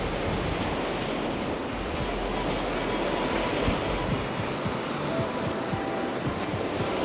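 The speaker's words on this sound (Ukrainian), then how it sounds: "Зимове море." Steady broadband wash of winter sea surf rolling onto a stony beach in Odesa, continuous and fairly close, with no voices.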